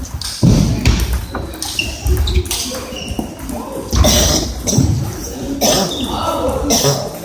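Several coughs break out among lively, overlapping voices and laughter nearby, with occasional thumps in the background.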